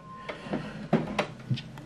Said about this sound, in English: now it's checking the printer